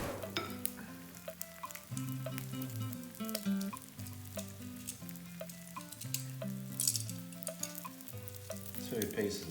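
Eggs and bacon fry in a non-stick pan, a steady crackling sizzle running close and continuous throughout, with some tonal background music layered over it and no talking.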